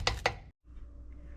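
Two quick knife chops on a cutting board while preparing vegetables for a pulled pork casserole, sharp close strikes followed by a brief pause and quiet kitchen background.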